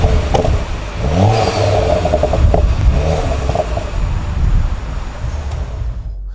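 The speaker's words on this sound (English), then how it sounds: "Hear the exhaust popping." A Ford Focus ST with a non-standard aftermarket exhaust starts up and revs, its engine rumbling loudly and steadily for several seconds with pops from the exhaust before it cuts off near the end.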